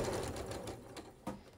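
Sewing machine stitching pinwheel quilt block pieces: a steady, close mechanical whir with fine rapid needle rhythm, followed by a short clunk as it stops.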